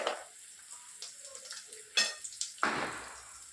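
Cashew nuts drop into a hot pan of oil while upma is being made, giving quiet crackles and sizzles with a few sharper clinks and bursts of frying noise.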